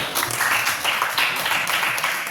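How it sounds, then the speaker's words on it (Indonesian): An audience applauds during a classroom practice lesson on the prohibition of zina, a steady wash of clapping hands held at an even level for a couple of seconds. "Kita kasih aplaus dulu."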